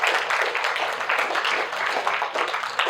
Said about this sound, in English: A big round of applause to the speakers.